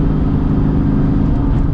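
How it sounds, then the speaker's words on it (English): A Ford Mustang Cobra fitted with a WOT box runs at a steady, loud engine drone during a third-to-fourth-gear no-lift shift test, the low rumble sustained close by with no gap or speech. "we're gonna go ahead and test out the no lift shift anyways"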